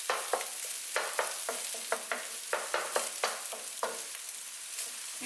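Fried rice with chicken, egg and vegetables is stir-fried in a wok, with steady sizzling broken by repeated rhythmic scrapes and tosses of a spatula against the metal, close and moderately loud.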